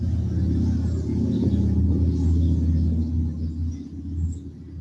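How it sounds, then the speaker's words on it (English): A distant motorcycle passes as a low, steady rumbling engine drone that swells slightly and fades over a few seconds, with no talking. "Maybe it was that motorcycle."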